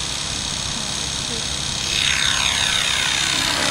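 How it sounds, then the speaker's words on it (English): An autonomous model helicopter flying upside down gives a continuous loud whirring drone with a rising, sweeping whine partway through; people talk over it. "Inverted helicopter flight."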